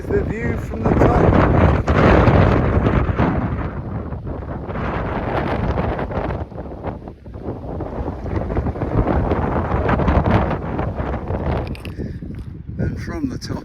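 Strong gusty wind buffets the microphone on a high, exposed mountain trail in the Vosges, a steady roaring rumble with brief lulls and surges that fills the scene throughout.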